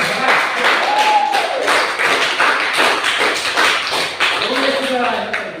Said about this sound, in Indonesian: Berikan tepuk tangan yang paling berat.